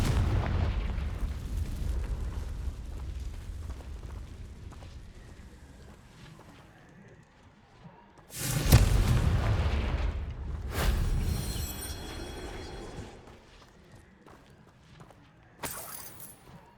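Confringo spell explosions in the Hogwarts Legacy video game: after a fading rumble, a loud booming blast hits, followed by a second burst and a later sharp pop.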